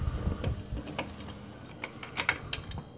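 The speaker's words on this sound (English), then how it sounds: "got my trusty Pittsburgh socket wrench 3/8 here" A Pittsburgh 3/8 socket wrench with a short 12 mm socket and extension ratchets on a brake caliper bolt of a Prairie 360, quick clicking bursts close by amid faint mechanical rattling.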